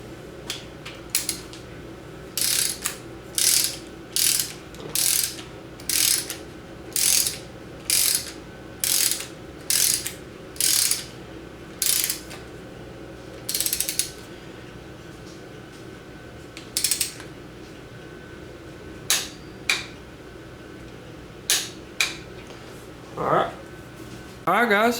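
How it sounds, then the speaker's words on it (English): A ratchet torque wrench cranks down a new ARP bolt on a Foxbody Mustang timing chain set, giving repeated bursts of close, sharp clicking in a steady rhythm, then a pause and a few scattered clicks near the end. "We're going to torque it down to 45 foot-pounds."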